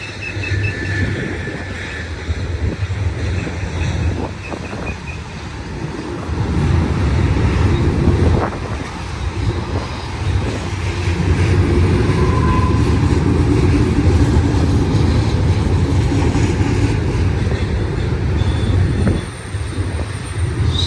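BNSF freight train cars roll past with a continuous heavy rumble and clatter of wheels on rail, loud and close, with occasional faint squeals. No voices.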